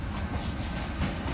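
Passenger train pulling into a station, a steady rumbling roar of wheels and carriages with faint rail hiss, continuous and fairly close with no voices.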